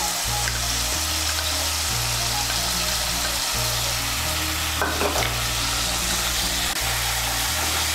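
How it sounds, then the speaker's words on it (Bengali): Tomato paste and spices fry in hot oil for a vegetarian Bengali chickpea ghugni, a dense, steady sizzle close up, with repeated rhythmic scraping stir strokes against the pan throughout and no speech. "টমেটোটাকে ভালো করে তেলের সঙ্গে মিশিয়ে নেব।"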